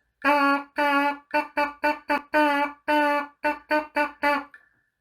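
A player's lips buzzing into a cornet or trumpet mouthpiece in a rhythmic pattern of about a dozen pitched, reedy bursts. Some are long and some are short, close and fairly loud, ending with a soft fading tone.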